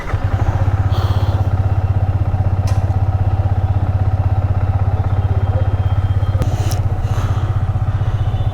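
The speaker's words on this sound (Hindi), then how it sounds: "बाइक को कोल्ड स्टार्ट किया है" A motorcycle engine idles steadily after a cold start near a railway station in Gorakhpur, a close, loud, even low chug with faint clatter and a few brief clicks on top.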